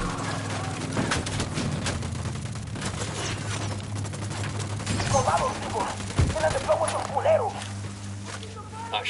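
Gunfire rattles in a Ghost Recon Wildlands shootout, with dense, ongoing bursts over busy outdoor game ambience. Voices talk over the shooting.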